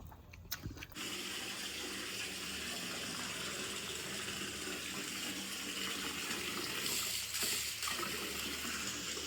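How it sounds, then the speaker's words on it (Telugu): Hot water gushes steadily from a geyser-fed tap in a guesthouse bathroom in Araku, a loud, continuous rushing splash after a few brief knocks at the start. "అక్కడ ఒక గీజర్ పెట్టినారు, సో మంచిగా వేడి నీళ్ళు వస్తున్నాయి"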